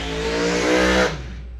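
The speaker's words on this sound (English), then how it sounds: "The supercharged front motor dragster." A supercharged front-engine dragster at a bracket racing event at Coles County Dragway roars loudly and close with a deep, sustained engine tone that cuts off sharply near the end.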